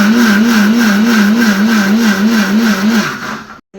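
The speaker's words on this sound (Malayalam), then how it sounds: "എന്തായാലും മിക്സി അടിക്കുക, ഓണരോ ഇല്ലയെന്ന് അറിയത്തില്ല." A kitchen mixer grinder blends ingredients for a mango curry, a loud, close motor whine that pulses in a regular wavering rhythm, then winds down and stops with a brief click.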